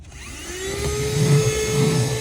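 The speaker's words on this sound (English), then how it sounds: "it's got this little extender, so if it's hard to reach places, I can just bend it and then hoover in" Cordless hoover vacuum cleaner running with its bendable extender attachment, a loud close steady whine with a rising tone and a low rumble as it works along the floor.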